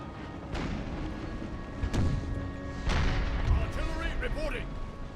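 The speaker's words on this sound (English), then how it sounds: "Artillery reporting." Artillery fires during a battle in Empire: Total War with the Empire 2 mod: three muffled booms at uneven intervals over a steady battlefield rumble, somewhat distant.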